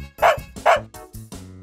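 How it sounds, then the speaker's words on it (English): A dog barks twice, sharp, loud and close, with a short gap between the barks. Quieter, softer tonal sounds follow. "A dog makes a woof sound."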